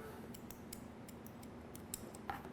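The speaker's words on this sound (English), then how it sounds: "I am going to do some scissor over comb. Here's where I'm going to cut lightly around the ear." Light scissor snips trim hair around the ear in a scissor-over-comb haircut, a few quiet, irregular clicks over a low room hum, with two slightly sharper cuts near the end.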